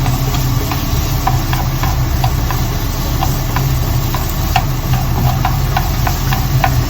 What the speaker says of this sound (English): turn down the heat into medium-low heat and pan fry it for about 4 minutes